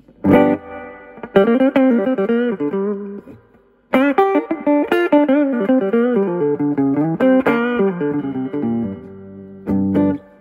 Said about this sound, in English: With this metal spring reverb unit